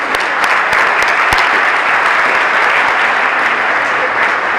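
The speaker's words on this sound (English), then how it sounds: "So let's have a round of applause for all the people who made this possible" Sustained applause from an audience at a De La Salle Class of 2024 Hall of Fame ceremony, a steady dense clapping with a few sharper close claps standing out, loud and unbroken throughout.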